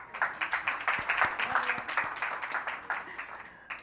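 An audience at a business fireside chat claps in a brisk, sustained burst of applause, fairly close and even, with a few sharper individual claps.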